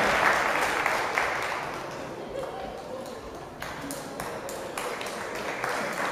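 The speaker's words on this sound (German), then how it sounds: "Nochmal hier Applaus für die beiden Jungs" Audience applause in a boxing hall after an amateur bout at a German U21 championship, steady broadband clapping filling the room with a few sharper claps standing out, mixed with crowd noise and a voice over the sound.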